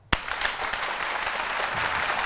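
An audience applauds a man being celebrated at a comedy show, a sudden, steady burst of dense clapping that stays full and even throughout, with no talk over it.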